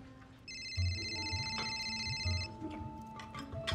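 A telephone rings once with a steady electronic tone lasting about two seconds, clear over a quiet room, then the room settles back to low background sound.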